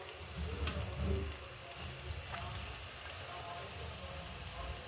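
Salted water boils in a pot for a salt lemon pickle, a close, steady bubbling rumble with a watery churn that swells briefly at the start and then holds even.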